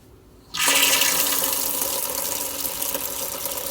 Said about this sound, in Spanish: abrir la llave que cerramos al principio y dejar fluir el agua 5 minutos